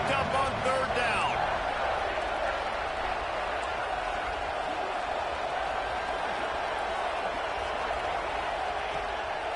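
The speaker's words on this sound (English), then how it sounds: "Crowd getting this defense whipped up on third down." A stadium crowd in College Football 26 roars steadily on a third-down play, a dense, sustained wall of cheering that barely dips, with a commentator's voice talking over it.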